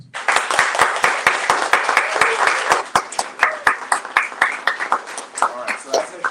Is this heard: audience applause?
yes